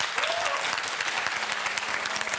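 Applause for the Trebnje primary school team at a school competition: steady, dense clapping from a crowd throughout, with faint voices mixed in underneath.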